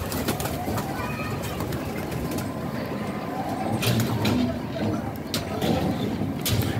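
Pigeons at a pigeon club coo softly and intermittently in a busy outdoor setting, with traffic rumble and occasional voices in the background.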